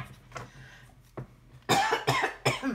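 Several harsh coughs from one person indoors, a faint one early and then three loud bursts close together near the end, with a quiet room between them.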